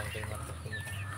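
Chickens cluck on a farm in a short, steady burst of fowl calls over a low, constant background hum.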